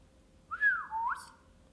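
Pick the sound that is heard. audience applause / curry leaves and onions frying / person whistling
person whistling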